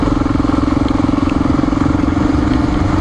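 A Honda XR400R dirt bike rides a forest road, its single-cylinder engine droning steadily and close with a rapid pulsing throb and some rattle, no talking.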